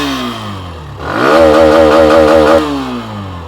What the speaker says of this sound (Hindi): आइडियल कंडीशन पर इंजन साउंड सुनिएगा। एग्जॉस्ट नोट थ्रॉटल दे देता हूँ।